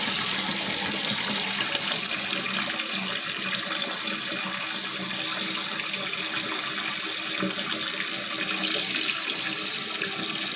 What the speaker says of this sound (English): I would basically go ahead and flush it once and let it fill in completely